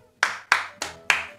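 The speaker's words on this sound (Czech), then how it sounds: "Zatleskejme YouTube" Five sharp hand claps in a loose, fairly even rhythm, close and crisp, each with a short decay, with no voice over them.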